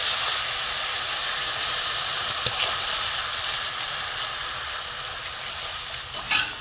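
Boiled milk poured slowly into hot caramelised sugar for malai chop pitha sends up a loud, continuous steamy hiss that holds steady up close, with a couple of small clinks near the end.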